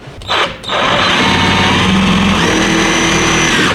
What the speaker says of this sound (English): We're gonna stick our first screw through the hole.